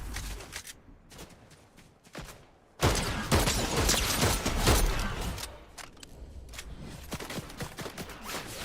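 Fortnite gunfire crackles in rapid bursts, lighter and scattered at first, then a dense, loud volley of shots that gradually thins into sporadic fire, with no voices.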